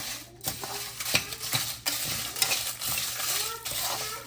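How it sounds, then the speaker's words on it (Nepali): A spicy chicken pickle spice mix is stir-fried in a pan, with a low sizzle under rhythmic scraping and clanking strokes of a spoon against metal, close and fairly loud. "यसरी म मिक्स गरेर भुट्छु"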